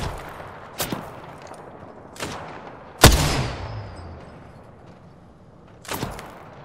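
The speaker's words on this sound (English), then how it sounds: "They're shooting at me." Enemy gunfire in a shooter video game: several sharp, separated shots, one loud near crack with ringing decay in the middle and fainter reports before and after over a low ambient hiss.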